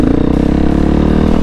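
A dirt bike engine revving hard, a loud close buzzing roar that holds steady through the short moment, with no voices.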